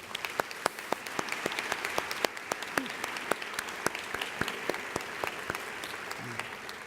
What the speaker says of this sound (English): Please join me in giving her a warm welcome with a round of applause